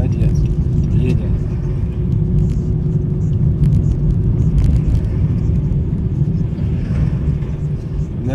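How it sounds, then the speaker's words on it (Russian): A car in city traffic during a driving lesson gives a steady, loud low cabin rumble of engine and road noise as it gathers speed, with an instructor and a student talking throughout. "Разгоняем автомобиль до 40."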